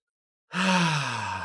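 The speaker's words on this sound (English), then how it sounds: "let's start by just really taking a deep breath in" A single deep breath drawn in close to the microphone after a moment of silence. It is a soft, airy rush that holds steady and then slowly fades.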